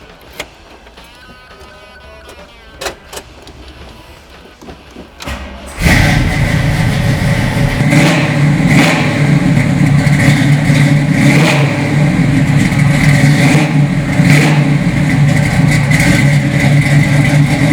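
A few faint clicks and cranking sounds, then the big-block 396 engine of a 1968 Chevrolet Camaro RS/SS convertible fires up and settles into a loud, deep, rumbling idle with occasional revs.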